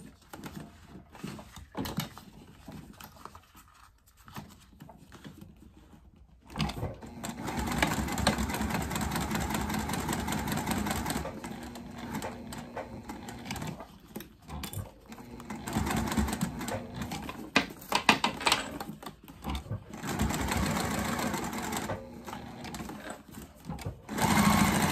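A sewing machine stitches around the perimeter of a fabric waist pack, starting with a few short bursts, then running in long steady whirring stretches with brief pauses, close and clear with no voices.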